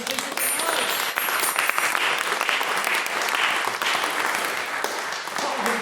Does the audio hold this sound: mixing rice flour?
no